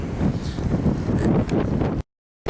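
Strong wind buffets the microphone on the coast at Dingalan, Aurora, a steady roaring gust for about two seconds before cutting to silence, with no voices.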